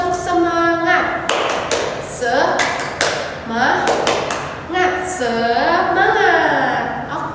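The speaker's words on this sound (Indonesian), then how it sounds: "Ice breakingnya tepuk semangat aja biar kita semangat ya." Rhythmic clapping routine for a spirit-boosting icebreaker in a fourth-grade Indonesian language class, sharp claps and taps in a patterned beat mixed with a voice chanting and speaking throughout.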